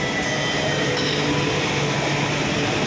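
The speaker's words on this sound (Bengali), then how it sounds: "ঝকঝকে নতুন ট্রেন।" Kolkata Metro train rumbles in a steady, loud, continuous drone from inside or beside the car, with faint clinks and no voices.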